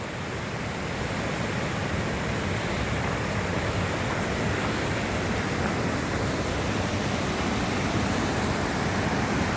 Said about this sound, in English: And if you like waterfalls, there you go.